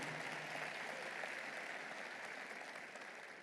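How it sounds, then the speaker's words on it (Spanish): Sustained applause from a church congregation during a Spanish-language service, a soft, even wash of many hands clapping that fades slightly toward the end, with no voices. "Vamos a darle fuerte ese aplauso al Señor."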